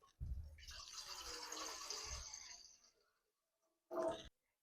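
Water poured from a container into a saucepan on a gas stove, a steady broadband splashing stream lasting about three seconds, followed by a short separate clatter or knock.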